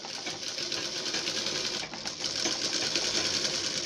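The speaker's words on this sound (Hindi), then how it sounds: "अब इसको हम कपड़े को मोड़ कर यहाँ पर सिलाई लगाएंगे पूरे कपड़े को" A sewing machine runs steadily as it stitches along a fold in fabric for a neckline with border and dori work, giving a close, continuous whirring buzz with a brief dip in the middle.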